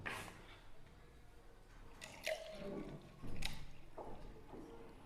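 Water trickles and drips into a cut plastic bottle in a small floating-ball buoyancy experiment, soft intermittent splashes and glugs close by.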